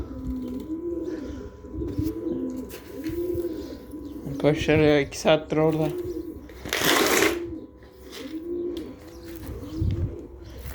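A pigeon coos repeatedly in a steady rhythm nearby, while someone speaks briefly partway through.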